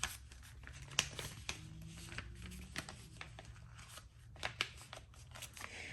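Paper petition being folded three times, with soft close crinkles and sharp creasing snaps spaced irregularly over quiet room tone, no voices.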